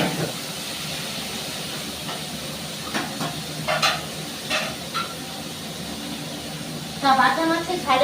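Fish being fried in a pan for a spicy Bengali fish curry, a steady hissing sizzle running throughout with a few louder crackling bursts, while a person talks over it.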